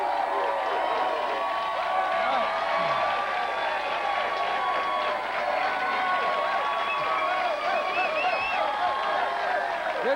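Studio audience cheering and applauding on a 1992 coach's TV show after a football game against the Bears, a dense, steady roar of clapping and whoops that continues throughout, with voices calling out over it.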